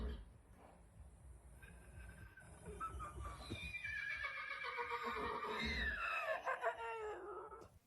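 A dog imitates a horse, letting out a rising and falling whinny-like vocal that swells through the middle and peaks near the end, fairly faint and heard on its own.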